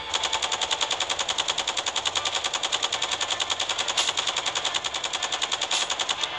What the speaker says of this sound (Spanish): Hay un mecha ahí disparando.